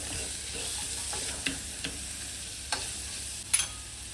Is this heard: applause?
no